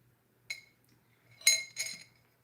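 A drinking glass of water clinks three times, sharp and bright: one tap, then two more close together, against a quiet room with a faint low hum.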